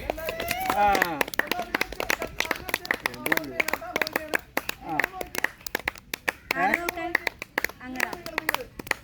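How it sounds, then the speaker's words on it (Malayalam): At a wedding anniversary cake cutting, people clap in scattered bursts of hand claps close by, with voices chatting and calling out throughout. "കയ്യടിച്ചല്ലേ."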